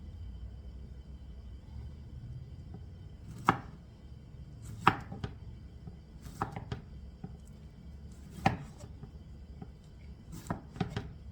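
A knife chops fresh pineapple into thin quarter-inch strips on a cutting board, a series of about seven distinct, close thuds spaced irregularly with quiet pauses between.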